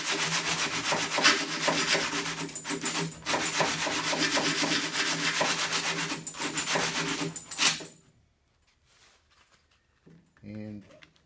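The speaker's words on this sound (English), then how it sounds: "I'm going to try to just sand out that pocket a little" Sanding scrapes steadily at a pocket in a 1956 GMC passenger door, a close, continuous rasping rub for about eight seconds, then it stops and a brief knock sounds near the end.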